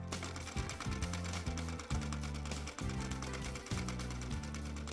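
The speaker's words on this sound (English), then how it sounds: "We just sew the flower shape using zigzag stitch by moving the embroidery hook." A regular sewing machine zigzag-stitches lace applique onto organza in an embroidery hoop, its needle hammering in rapid rhythmic bursts separated by brief pauses, close and steady, with no talking.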